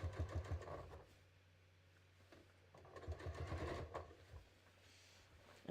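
A home sewing machine stitches fabric along a top, heard as two short bursts of quiet, rapid mechanical chattering separated by a pause.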